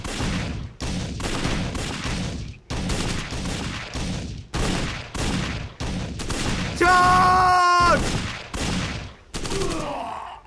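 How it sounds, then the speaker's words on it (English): Bursts of gunfire fill a battle in the WWII strategy game Codename Panzers: Phase One, a rapid run of loud shots broken by short gaps, with a brief tonal ringing effect near the end. "Wir stehen unter Feuer."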